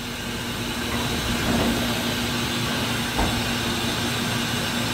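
A Doosan Puma MX-3100 turning spindle running at 500 RPM, giving a steady low mechanical hum with a faint constant tone and airy hiss, moderately close, with a couple of soft bumps and no speech.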